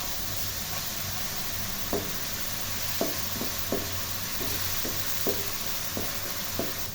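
Green chilli, onion, ginger and garlic paste frying in a pan, a steady sizzle with a spoon stirring and scraping in scattered sharp strokes, close and moderately loud, no voices.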